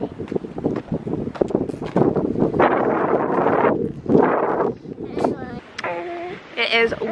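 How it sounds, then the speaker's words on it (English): Gusty wind buffets the microphone in loud bursts while people talk over it. "It is windy out."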